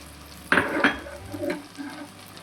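Small pieces of chopped goat fat drop into a pan of frying tomato and spices, giving a sharp sizzle burst, then a second hiss and softer stirring scrapes as it settles.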